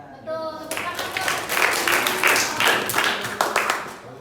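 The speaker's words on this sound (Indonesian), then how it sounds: "Tepuk tangan dong." A burst of applause from a group, dense clapping rising quickly and continuing steadily for several seconds, fairly close.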